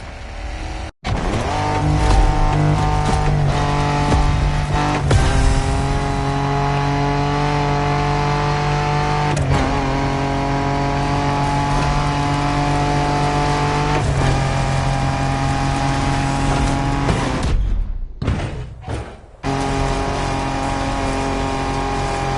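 Off-road racing in The Crew Motorfest, a loud engine revving and shifting through gears continuously, with rising and falling pitch, then a brief cut and drop near the end.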